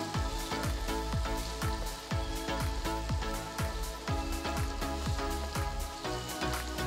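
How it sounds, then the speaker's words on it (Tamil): Chopped green and red bell peppers sizzle loudly as they sauté on a high flame for corn fried rice, a dense continuous crackle with rhythmic stirring knocks throughout. "1/2 கப் நறுக்கின பச்சை குடமிளகாய், 1/2 கப் நறுக்கின சிவப்பு குடமிளகாய் இதெல்லாம் சேர்த்து வதக்குங்க"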